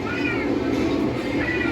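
A cat being rescued meows twice, once at the start and again near the end, each a drawn-out, wavering cry heard fairly close over a steady, noisy background hum.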